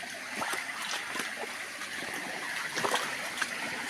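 A creek flows beside a footpath, giving a soft continuous trickle and splash of water along with faint rustling.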